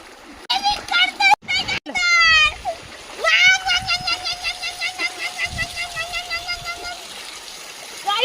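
Water splashes in a shallow stream as a bicycle is washed, with children's high squeals and voices ringing over the splashing from close by.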